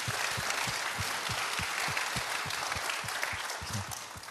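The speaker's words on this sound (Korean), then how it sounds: "우리 이종근 실장님께 박수 한번 좀 부탁드립니다." An audience claps steadily and fairly loudly for Lee Jong-geun at a Korean political gathering, a dense continuous patter of many hands with no voices over it.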